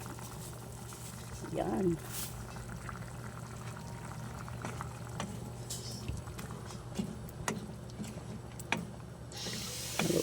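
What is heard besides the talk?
meat simmering in coconut milk in a pot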